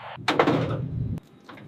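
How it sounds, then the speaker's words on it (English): Bay doors of a very large US military helicopter close with a loud, heavy mechanical rumble and clatter lasting about a second. It cuts off abruptly, then a faint, brief rattle follows. "Bay doors closing."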